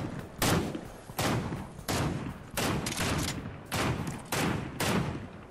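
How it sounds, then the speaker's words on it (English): Fortnite gunfire as a steady series of seven loud, evenly spaced heavy shots, each with a broad crack and short decay, close and alone without talk. "He's shooting."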